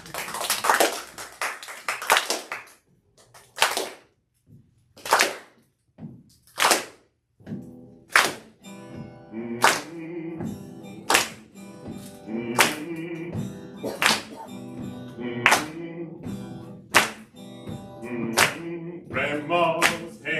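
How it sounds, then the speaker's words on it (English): Audience clapping in unison at a live poetry performance of Langston Hughes works, sharp evenly spaced claps building into a steady rhythmic beat, with softer speaking heard at the start before the clapping takes over. "Everyone clap."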